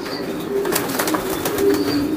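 Racing pigeons coo in a low, throaty murmur, steady and close, with a few brief rustles mixed in.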